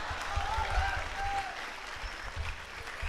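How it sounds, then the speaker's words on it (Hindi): Audience clapping at a business conclave, a steady wash of applause from a crowd that holds at an even level for the whole stretch, with no voices standing out. "जो लोग ये तालियां बजा रहे हैं खाने और सोने पर"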